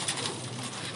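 A brief, faint coo from a female breeder pigeon, a hen nesting on eggs, barely rising above steady background hiss.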